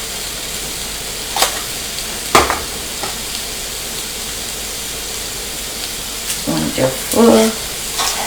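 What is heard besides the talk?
sandwich thins with butter grilling and sizzling in a pan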